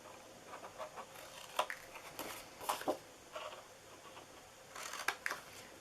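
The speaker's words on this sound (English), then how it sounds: "we're going to cut the tops of these two off" Paper being snipped with scissors to trim the tops off flaps for a handmade Easter treat box, a few quiet separate cuts spaced over several seconds, close but soft.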